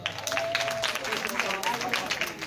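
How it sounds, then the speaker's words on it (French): Audience clapping at a stand-up comedy night, a crowd applauding steadily at a moderate level with a voice and some cheering mixed in over the top. "Est-ce que les femmes peuvent s'applaudir?"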